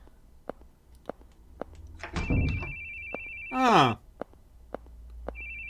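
Telephone ringing in the RPG Maker horror game The Boogie Man: a steady electronic ring tone holds for over a second, then returns briefly at the end, amid faint rhythmic ticks, a rustling burst and a short swooping effect.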